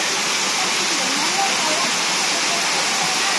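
A jungle waterfall on Koh Samui cascades in several tiers, producing a loud, continuous broadband roar of rushing water that fills the whole clip without pause.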